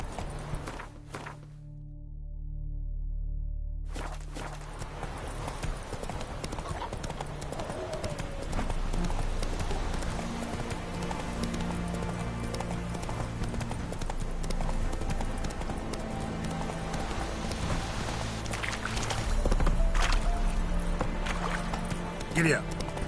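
Horse hooves clip-clopping in The Witcher 3, a rhythmic trot to gallop that continues steadily under music and game sounds, with voices speaking over it at times.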